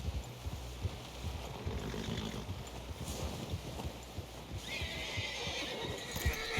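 A horse in Red Dead Redemption 2 gives out a neigh while hooves clop steadily beneath it, close and fairly loud over a continuous ambient rumble, with no speech.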